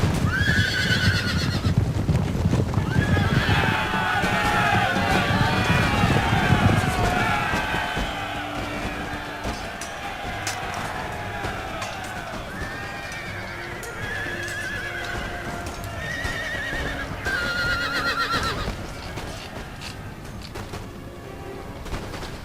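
Cavalry horses in the video game Empire: Total War whinny and neigh repeatedly over galloping hooves, with distant gunfire and crowd noise in a busy battle scene.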